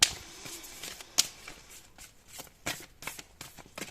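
Oracle cards are shuffled for a tarot-style reading, giving a string of crisp, close riffling and slapping bursts at an uneven rhythm. One sharp snap stands out among them, and there is no voice.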